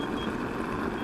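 A Kingsong S22 electric unicycle's speed alarm sounds a steady, sustained high beeping tone over a faint hum of wind and motion, quiet and continuous.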